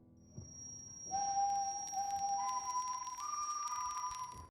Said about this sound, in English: each time Death whistled his motif